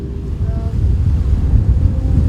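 Strong wind buffets the microphone beside a lake, a steady low rumbling roar that swells slightly, close and loud, with no voices.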